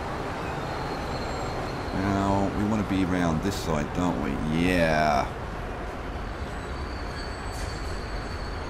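A train in the Transport Fever video game rumbles and squeals with rising and falling metallic tones for a few seconds, then fades back to a low hum, while people talk over it.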